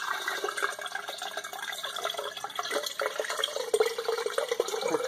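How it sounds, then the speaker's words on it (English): Buttermilk left from making butter in a Ninja blender pours out through a strainer, a continuous liquid trickle and splash with small drips, close and alone. "So the buttermilk is mainly what's pouring out of the blender anyway"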